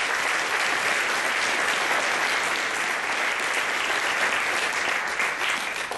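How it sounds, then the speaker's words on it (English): Sustained audience applause fills a large room at an annual foundation event following a musical performance, a dense even clatter of many hands holding steady before tapering slightly at the end. "Let's give them another round of applause."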